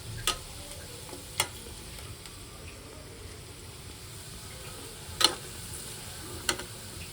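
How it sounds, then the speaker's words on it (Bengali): Onions frying in a pan at home until brown, a soft steady sizzle with a few sharp clicks of a utensil striking the pan as they are stirred, quiet and without talk. "পেঁয়াজটা সবসময় বাদামি কালার করে ভেজে নিলে ভালো হয়"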